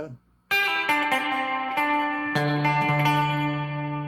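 Electric guitar notes and chords from a Fender Stratocaster with unusual pickup wiring, a strange, hollow, phasey tone, played one after another with sustained ringing between strikes.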